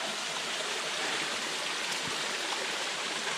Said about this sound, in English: I guess this is the waterfall.